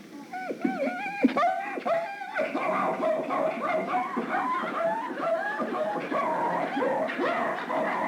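A man imitates a Norwegian elkhound's barking with yips and howling vocal bursts, mixed with what sounds like laughter from listeners.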